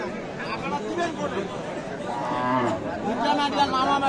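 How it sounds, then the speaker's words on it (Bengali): Cows and calves of a local breed at a busy village cattle market, with lowing and animal sounds mixed into steady crowd chatter and bargaining voices, close and continuous. "দেশাল জাতের গাভী, দেশাল বাছুর।"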